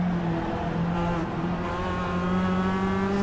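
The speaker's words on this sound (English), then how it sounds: "So you can just hear the different sound of these motors. They're smoother, they're quieter." A Group B roadster race car at Sandown in a racing game holds a steady, smooth engine drone from on board, its pitch drifting slightly as it cruises, loud and continuous without talk.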